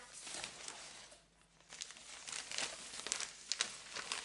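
A paper mailing envelope is handled up close, giving soft crinkling and rustling that grows busier and louder in the second half, with a few sharper crackles and no talking.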